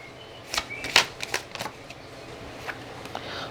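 A deck of tarot cards is shuffled up close, several sharp papery riffles and snaps crowded together early on, then sparser, softer card sounds trailing off.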